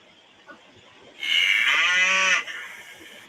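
A single cow gives one long, clear moo lasting about a second over quiet background noise, with no voices around it.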